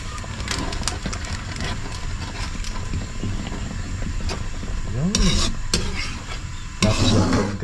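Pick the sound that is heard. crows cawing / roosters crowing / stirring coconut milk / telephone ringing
stirring coconut milk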